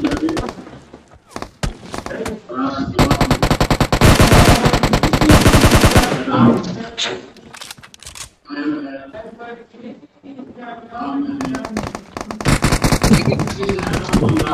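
Rapid automatic gunfire from PUBG Mobile in loud, repeated bursts, with excited voices shouting over the shooting between volleys.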